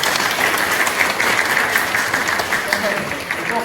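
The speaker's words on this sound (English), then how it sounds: "Just a quick round of applause." Audience applause at a 2024 general election hustings in Lipson, steady clapping filling the room at a fairly loud level throughout, with some voices mixed in.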